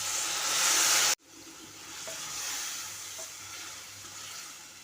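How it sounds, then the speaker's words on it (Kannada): Tamarind juice poured into a sizzling pan while cooking jhunaka, a loud hiss that cuts off abruptly, followed by a softer ongoing bubbling sizzle close by. "ಸ್ವಲ್ಪ ಹುಣಸೆ ಹಣ್ಣಿನ ರಸ ಹಾಕ್ತಾಯಿದ್ದೀನಿ"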